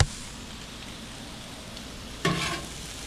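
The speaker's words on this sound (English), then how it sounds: "You hear the sizzle." Onions sizzle on a Blackstone griddle with a steady, close frying hiss, and a louder burst of sizzle flares up near the end as they are stirred; no one speaks.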